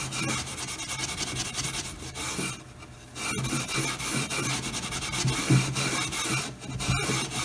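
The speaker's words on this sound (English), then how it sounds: "Just follow up the next day with a little bit of alcohol. And just clean off these edges." Steady rubbing and rasping as the edges of a mahogany Sheraton server are scrubbed clean with alcohol after stripping, a close, continuous back-and-forth friction with a brief lull midway.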